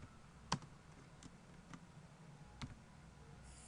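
Soft, sparse keystrokes on a computer keyboard while entering text into an Excel sheet. The isolated clicks are quiet and irregular over faint room noise.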